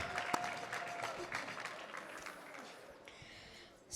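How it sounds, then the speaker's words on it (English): An audience at an awards event gives a round of applause, a dense wash of clapping that starts strong and gradually thins out over a few seconds. "So let's give a round of applause."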